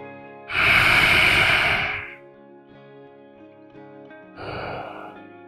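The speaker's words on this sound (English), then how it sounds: "Get some nice breathe in and out." Slow, deep breaths in a yoga child's pose: a loud, close, airy breath lasting about a second and a half, a quiet pause, then a shorter, softer one.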